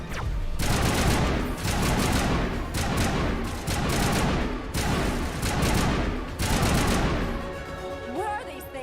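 Repeated bursts of gunfire in Mass Effect Legendary Edition, including pistol shots, come in loud clustered volleys with short gaps and fill the whole stretch, with a brief electronic tone near the end.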